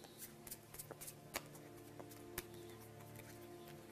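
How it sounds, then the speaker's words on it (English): A deck of playing cards is shuffled by hand during a magic trick: soft papery riffles and light taps, quiet and close, with a few sharper snaps. No one speaks. "What I'm going to do is just shuffle the cards like this."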